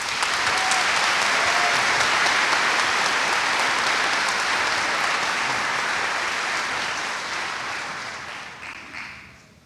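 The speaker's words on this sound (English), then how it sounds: "please show your appreciation and applause for the Superintendent of Schools, Dr. Jim Rollins." A school audience at a high school senior assembly gives sustained applause, a dense, steady wash of clapping that fades out near the end.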